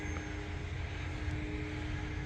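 Faint, steady drone of a radio-controlled E-flite Decathlon RJG 1.2m model airplane's propeller motor humming at a distance, continuous with no talking.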